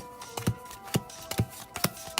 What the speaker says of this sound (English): And time for the shuffle.